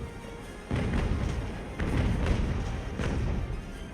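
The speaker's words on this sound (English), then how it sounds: "46 cannon shots of grape shot in your face" Broadsides of grape shot from sailing-ship cannons in the naval strategy game Ultimate Admiral: Age of Sail, three heavy booming volleys that rumble on between blasts, loud and close.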